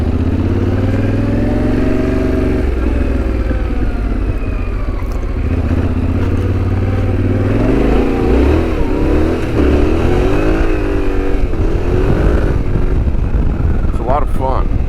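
Yamaha Tenere 700 adventure motorcycle ridden onto a dirt trail, its engine droning steadily near the microphone, then revving and rising in pitch with throttle blips and rattling clatter from the bike over rough ground.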